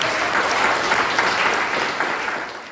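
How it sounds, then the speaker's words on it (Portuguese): Church congregation applauding, dense steady clapping from a crowd that fades slightly at the end. "Dê um aplauso a Ele no teu lugar."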